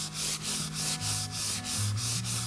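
Sandpaper rubbed back and forth along the grain of a wooden slab, a steady rasping scrape in even repeated strokes, close and loud with no talking.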